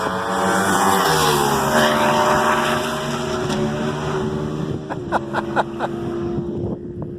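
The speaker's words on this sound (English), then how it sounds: "Kevin on a 959 doing a 2-up ride, passing people up in the intermediate class." A Ducati 959 carries two riders around a race track in an intermediate session, its engine a loud, sustained drone over rushing wind, with quick throttle blips and shifts toward the end.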